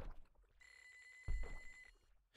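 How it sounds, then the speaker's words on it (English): Video game Normal Fishing: an electronic telephone ring tone sounds in a sustained burst with a brief thump midway, fairly quiet and alone with no talk. "Got another phone call here."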